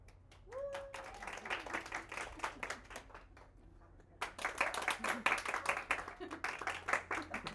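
Small audience at a social media brunch event clapping and cheering, uneven bursts of claps with a brief lull midway, then louder renewed clapping; a voice or whoop is heard near the start.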